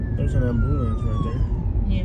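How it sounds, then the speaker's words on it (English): Emergency siren wailing on a city street in Troy, Alabama, its falling tone sweeping over traffic rumble at moderate distance while voices speak nearby. "There's an ambulance right there."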